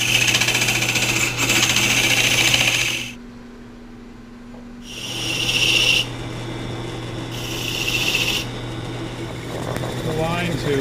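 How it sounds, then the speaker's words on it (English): Homemade box scraper widening a hole in resin on a wood lathe, a harsh scraping chatter in three bursts over the steady lathe hum, with brief quieter pauses between. "I'm just going to widen it out using my little homemade box scraper"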